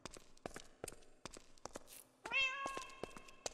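A cat meows clearly and close by in a virtual game city, a single drawn-out call in the latter half, with soft rhythmic footsteps and light thumps before it.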